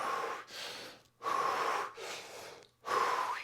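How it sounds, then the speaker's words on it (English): Slow deep breaths alternate in and out, each long inhale and exhale close and clear, about three cycles with short silent gaps between, no talking. "breathe out, and here we go again."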